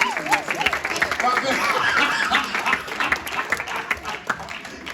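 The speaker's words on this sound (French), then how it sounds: "Si vous pouvez vous applaudir." Congregation applauding during a church service, a dense wash of clapping with scattered chuckles and voices mixed in, fairly loud and steady throughout.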